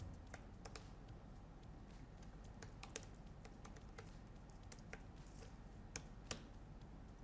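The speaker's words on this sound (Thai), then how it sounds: "อ่าเสียงมันก็จะแบบ นุ่มๆ พิมพ์ง่ายพิมพ์สนุกมือนะครับ" Steady, soft clicking of keys being typed on a laptop keyboard, a quick uneven rhythm with a few louder taps over a low background hum.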